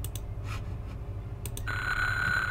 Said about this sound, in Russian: Будильник зазвонил